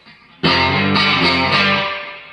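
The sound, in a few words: electric guitar on bridge pickup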